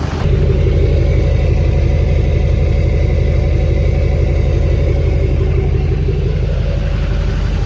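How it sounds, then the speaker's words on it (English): An LBZ Duramax diesel pickup truck engine, freshly rebuilt after frame damage, idles close by with a steady, loud low rumble and even throbbing that holds unchanged throughout after starting abruptly. "I'm gonna let it idle up a little bit."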